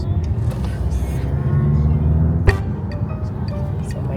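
A car on the road from the airport to a villa rolls along with steady engine and tyre rumble heard from inside the cabin, with a brief thump partway through and voices talking at a low level.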